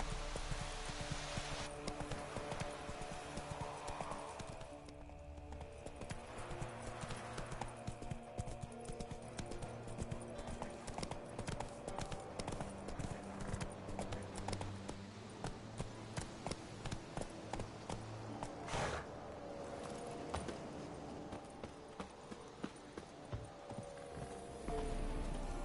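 A horse gallops in The Witcher 3 video game, with steady rhythmic hoofbeats running the whole stretch under continuous game music and ambience.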